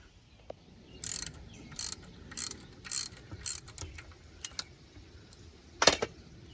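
A ratchet turns a 6-point socket on the temperature sending unit of a 1984 Dodge W350, giving several short, crisp clicking bursts at a steady pace, then a final burst after a pause. The sound is close and fairly quiet.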